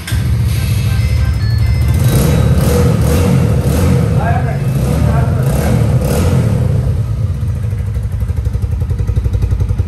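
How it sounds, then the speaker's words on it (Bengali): An old used motorcycle in near-new condition at a Bangladeshi second-hand bike dealer is started and idles with a loud, rhythmic thumping beat, Royal Enfield-like in character, while people talk nearby. "সাউন্ডও তো একদম রয়্যাল এনফিল্ড সাউন্ড, রয়্যাল এনফিল্ডের মতন সাউন্ড"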